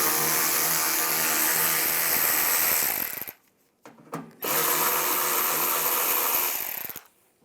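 A powered driver with a 7mm socket spins out screws holding the front mud flap on a 2007-2013 Chevy Silverado, a loud close buzzing whine running for about three seconds, stopping briefly, then running again.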